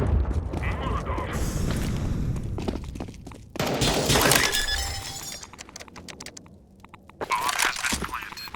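A Molotov cocktail in a shooter game smashes with a crunch of breaking glass, then flames catch with a roaring whoosh, followed by more bursts of crackling shatter.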